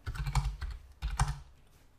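Typing in a computer terminal on a keyboard: two quick clusters of soft, close key clicks with a short pause between them, and no voices.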